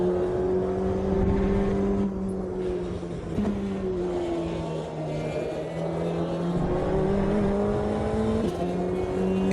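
Audi LMP1 prototype race car in Automobilista 2 at Road Atlanta, engine droning loud and continuous from onboard, pitch rising and dipping through several gear changes and corners.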